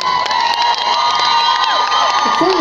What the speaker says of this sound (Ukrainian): Поаплодуйте для Григорія, для Насті.